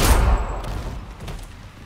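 Pistol gunfire in the shooter game Homefront: The Revolution, a loud burst of close shots with a boomy low end that decays over a couple of seconds.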